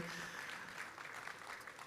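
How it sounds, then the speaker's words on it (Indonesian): Applause from a church congregation welcoming a pastor, steady dense clapping filling the hall throughout, moderately loud with a faint murmur of voices underneath. "bolehkah saudara kita berikan tepuk tangan"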